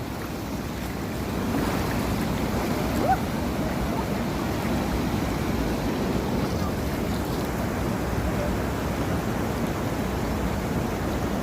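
Floodwater rushing over a road closed after torrential rain near Ibrahimpatnam, heard as a steady, loud broadband roar of flowing water with wind-like rumble, continuous throughout and without speech.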